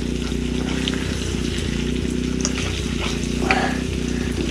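Eggs crackle and sizzle in a slightly scorching frying pan over a constant low hum, with a few brief clinks and pops near the end.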